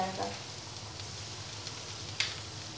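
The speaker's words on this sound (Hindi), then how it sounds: "देखिए मैंने सारे चिकन तेल में डाल दिए हैं, इसको मध्यम आंच पे ही पकाना है।" Chicken pakoras fry in hot oil over a medium flame, giving a steady, even sizzle that holds throughout, with a brief sharper crackle near the end.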